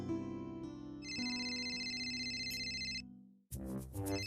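A mobile phone rings with a bright, repeating electronic ringtone melody, loud and close, pausing briefly before the tune resumes.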